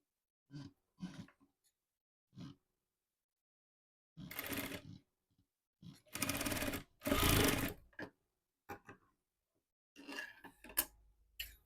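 A sewing machine stitching a Punjabi pant with a pocket, heard in short separated bursts of rapid mechanical whirring, some brief and some longer, close and fairly quiet with pauses between runs.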